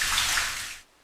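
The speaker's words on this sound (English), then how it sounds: "The sound of water intensified" Rushing water, like a tub filling, used as a sound effect in a horror story narration; a loud, steady broadband wash for about a second that cuts off abruptly near the end.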